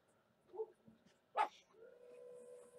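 Small Maltese dogs in an indoor craft room give a few short, moderately loud yips and barks, with a sharper bark midway followed by a sustained whine-like tone.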